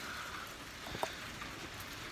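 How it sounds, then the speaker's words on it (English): Steady rain falls in a soft, even wash of noise, fairly faint and continuous throughout, with one small drip-like tap near the middle and no voices. "raining."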